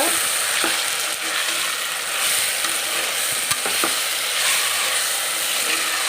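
Ginger garlic paste frying in a pan for chicken biryani, a dense continuous sizzle with occasional scrapes and clicks of stirring, close and loud throughout.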